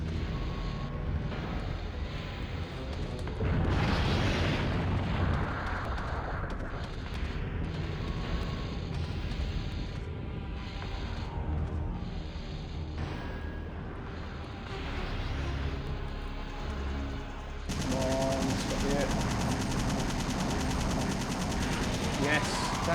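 Rapid bursts of gunfire aimed at Nemesis in Resident Evil 3 on hard mode, loud and dense for the whole stretch with a heavier blast near the end, while a voice talks over it.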